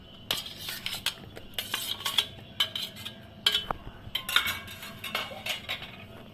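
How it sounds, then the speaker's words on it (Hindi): Cut paneer pieces dropped into a bowl while making a yeast-free kadai pizza, giving a run of light clinks and knocks of utensil against dish, close and fairly quiet, with no talking. "पनीर को एक बाउल में डालेंगे।"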